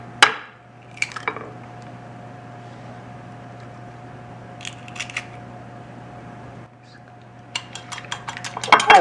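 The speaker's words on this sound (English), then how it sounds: "We just want to whisk this egg until it's all nicely blended." An egg is whisked in a bowl, with a few quick metallic clinks against the side at the start and middle, then a faster run of taps near the end over a quiet kitchen hum.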